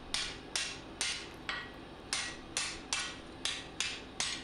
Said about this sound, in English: And then I just break it off over the anvil.